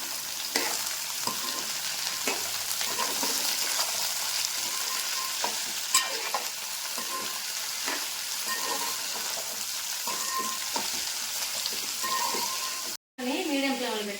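Ivy gourd (dondakaya) pieces fry with a little salt in a pan, a steady close sizzle broken by repeated scraping and clinking as a spoon stirs them, with a brief silence near the end.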